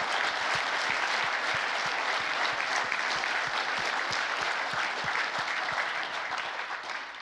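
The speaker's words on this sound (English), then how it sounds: "Round of applause for Alexandra Richie and Richard Overy" A conference hall audience at a World War II history conference opening session claps steadily for the speakers, a dense, even wash of applause with a few sharper individual claps standing out, sustained throughout and easing slightly near the end.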